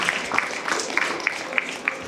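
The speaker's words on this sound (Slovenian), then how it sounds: "En velik aplavz za njih." An audience at an award ceremony applauds briefly, a soft wash of clapping with a few sharper individual claps standing out, fairly close and without speech.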